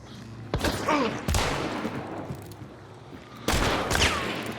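Gunfire in the Hunt: Showdown video game: three loud, sharp gunshot blasts with ringing tails, spaced about a second and then two seconds apart, with faint game ambience between them.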